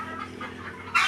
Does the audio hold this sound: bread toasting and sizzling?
no